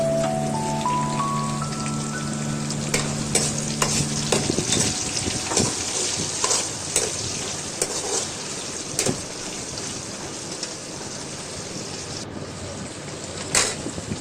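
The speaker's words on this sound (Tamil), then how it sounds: "3 தக்காளி போட்டுக்கோங்க." Ground tomato sautéing in a pan, a steady rough sizzle and scraping stir that runs continuously, close and fairly loud, with occasional sharp clicks, while a short musical tone plays at the start.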